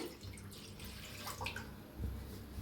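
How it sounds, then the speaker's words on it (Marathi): Steady stream of water running into a metal pan on a gas stove, a soft continuous splashing rush at close range with a slightly heavier gush near the end. "गॅसवर ठेवला पॅन पानमध्ये घाले पाणी"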